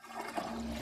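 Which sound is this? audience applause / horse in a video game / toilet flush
toilet flush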